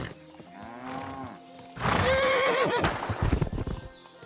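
A horse in the game Kingdom Come: Deliverance 2 snorts and whinnies, then a loud close burst of hooves and neighing clatters past and trails off.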